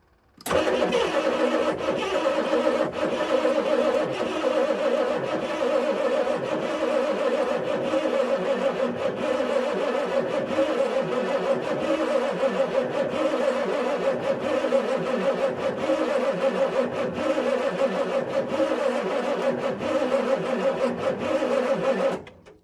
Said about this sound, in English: Now let's try cranking this thing over again with all these tight.